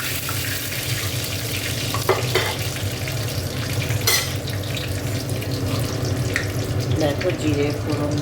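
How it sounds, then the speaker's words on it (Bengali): Cumin seeds and a bay leaf dropped into hot oil for tempering make a steady, close sizzle and frying hiss, with a faint clink of stirring. "দেখো, জিরে ফোড়ন দিয়ে দিলাম"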